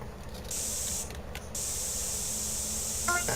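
Spray paint hisses steadily as tags are sprayed in the video game GTA San Andreas, a continuous close hiss with one brief pause, over quiet game ambience.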